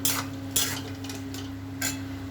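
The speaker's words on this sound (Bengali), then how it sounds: "এবার আমি মাংসটার মধ্যে দেবো। তো বন্ধুরা এবার আমি নাড়াচাড়া করবো সুন্দর করে" Meat being stirred in a pan over low heat, a few distinct scraping strokes of a utensil against the pan over a faint steady hum and light sizzle, close by and without speech.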